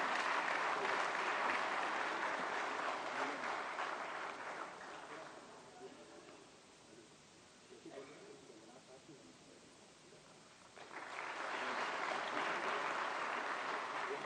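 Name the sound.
loud audience applause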